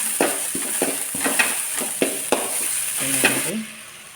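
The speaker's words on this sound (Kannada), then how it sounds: "ಈಗ ಶುಂಠಿ ಬೆಳ್ಳುಳ್ಳಿಯನ್ನು ಜಜ್ಕೊಂಡು ಹಾಕಿದ್ದೀನಿ ಪೇಸ್ಟ್ ರೀತಿ ಈ ಥರ ಮಾಡ್ಕೊಂಡಿದ್ದೀನಿ ಸ್ವಲ್ಪ ಫ್ರೈ ಮಾಡ್ಕೊಂಡಿರ್ತೀನಿ" Ginger-garlic paste with onion, chili and curry leaves sizzles in a pan, a steady close fry with repeated scraping stirs and a few clinks of a utensil, no voices.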